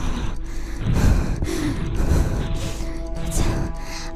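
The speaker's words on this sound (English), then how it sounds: "Why are you breathing so heavy?" Heavy breathing from a voice close to the mic, a run of loud gasping inhales and exhales with snort-like bursts across a few seconds.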